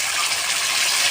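Water tipped into a cooking pan holding turmeric and salt for a young jackfruit and chicken stomach dish, heard as a short, close, even gush of liquid that stays steady and loud from start to finish.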